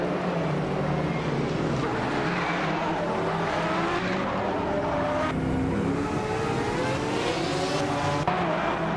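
A 1989 Sauber C9 Group C race car in a racing video game, its engine roaring continuously at high revs with rising and falling pitch through gear changes, loud and sustained throughout.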